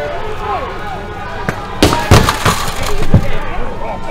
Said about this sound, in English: The police smashed the windows of vehicles in their way.